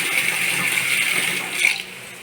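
A hotel bathroom tap runs with strong force, a steady hissing gush of water that dips and surges briefly near the end, heard close and alone.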